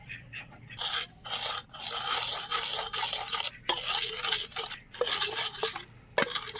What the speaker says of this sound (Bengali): এবারে সবশেষে আমি চিংড়ি মাছের শুটকিটাকে ভর্তা করে নেব